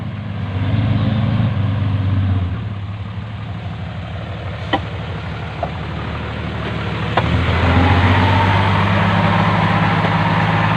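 A tractor's heavy diesel engine rumbles steadily nearby as it digs soil, its low drone dipping then revving louder, with a few sharp knocks and clanks over it.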